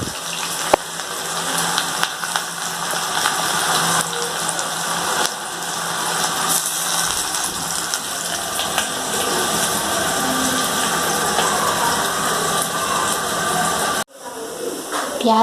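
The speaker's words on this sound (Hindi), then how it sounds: "प्याज यहाँ पे फ्राई हो रही है और इसे पिंक करेंगे।" Chopped onions fry in a pan on the stove, a loud continuous hissing sizzle that holds steady for most of the clip before a brief break near the end.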